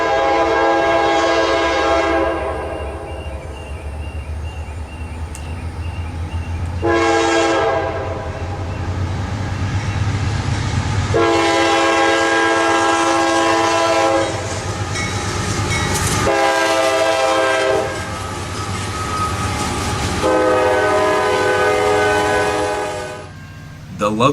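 Freight train Q608 rolls past at Folkston, Georgia, behind EMD locomotives with unit 306 leading, sounding long, loud harmonic horn blasts again and again over a steady rumble of passing cars, with no voices.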